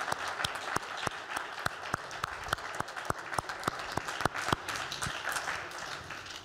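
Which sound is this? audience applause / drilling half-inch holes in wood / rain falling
audience applause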